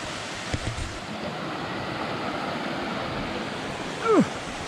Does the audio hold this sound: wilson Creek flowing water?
yes